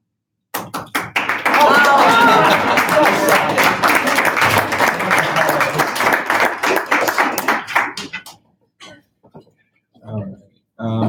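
Undergraduate senate members break into applause in a meeting room for a just-confirmed nominee; dense clapping swells quickly and holds for about six seconds, mixed with voices, then stops and scattered talk follows.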